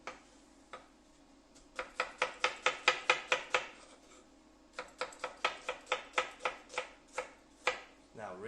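A knife chops onion into strips on a cutting board in a series of quick, crisp taps, grouped into bursts with short pauses between them, close and clear.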